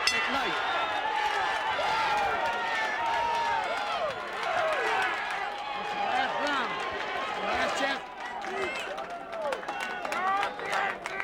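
Boxing crowd on its feet cheering during the final round of a pro fight, a dense, sustained roar of voices with scattered claps and shouts, under continuous commentary.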